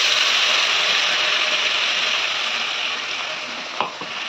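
A paste of onion, green chilli, garlic and ginger fries in butter in a wok, giving a loud, steady hiss and sizzle that eases slightly, with a brief utensil knock near the end.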